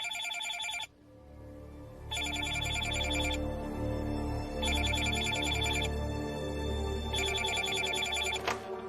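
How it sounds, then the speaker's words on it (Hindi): A telephone rings in repeated electronic bursts with pauses between them, over a low background hum, loud and close. "फोन की घंटी बज रही है।"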